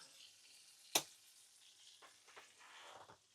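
A steak sizzles faintly in a pan on a small boat's galley stove, a low steady hiss with one sharp click near the start and a few soft clatters afterward.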